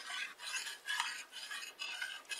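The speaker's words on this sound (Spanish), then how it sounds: "agregamos el jugo de limón y lo mezclamos" A utensil swirls through a liquid of lemon juice and dissolved gelatin in a bowl, giving faint, close, rhythmic swishing strokes repeated about every half second.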